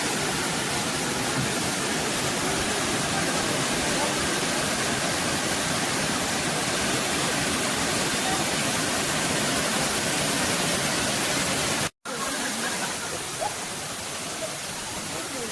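Areekkal waterfall pours in a steady, dense roar of falling water, close and continuous, with a momentary dropout near the end before the rush resumes.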